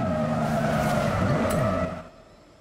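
Jaguar XJR-15 skidding in Forza Horizon 5, a steady loud engine roar with tyre scrub that holds for about two seconds, then cuts away to a quieter background.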